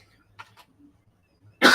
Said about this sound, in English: Man, I have a cough today.